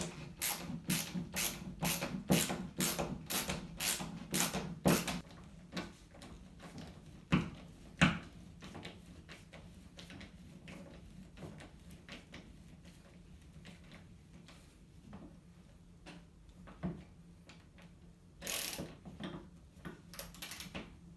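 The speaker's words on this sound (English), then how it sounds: "This is a Klein Tools multi-tool, and it has a ratcheting action, which comes in handy at times like this." Ratcheting clicks from a Klein Tools multi-tool tightening screws on the back of a television during a swivel TV mount install, a quick burst of about ten even, close clicks followed by sparser, fainter clicks and handling noise.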